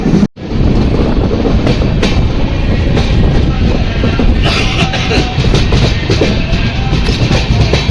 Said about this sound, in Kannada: ಫೈನಲ್ ಆಗಿ ನಮ್ಮ ಟ್ರೈನ್ ಬಂದಿದೆ.